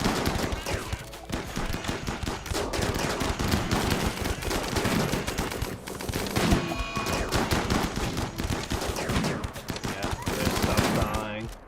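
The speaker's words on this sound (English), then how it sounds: "they're still going to take hits from my own gunfire." Rimworld video game gunfire crackles in rapid, continuous bursts for the whole stretch, dense and loud, with a voice talking over the shooting.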